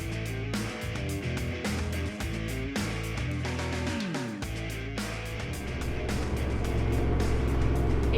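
A four-wheel-drive vehicle crosses Simpson Desert sand dunes near Big Red, its engine droning steadily and close, shifting pitch as it climbs and revs, with music-like tonal layers throughout.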